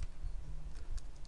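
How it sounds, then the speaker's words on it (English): A computer keyboard is pressed for a Control and Delete shortcut, giving a few soft, quick key clicks close by over a low room rumble, with no voices. "Press Control Delete on your keyboard."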